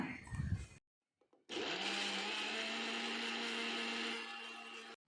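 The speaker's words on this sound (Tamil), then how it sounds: "இப்போ இதுக்கு தேவையான தண்ணி ஊற்றி இதை வந்து நல்லா பிளெண்ட் பண்ணிடலாம்." After a brief rustle and pause, a blender blending grapes with water for juice whirs loudly and steadily for about three seconds, then cuts off.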